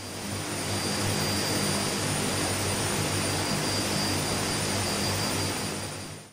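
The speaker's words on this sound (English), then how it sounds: "Select the Twin Otter as your twin turboprop. Any variant will do. You could also, of course, choose the King Air 350i. Start on a runway, engines running." The twin turboprop engines of a Twin Otter idle on a runway in Microsoft Flight Simulator, making a steady, loud, unbroken drone with a faint high whine running through it throughout.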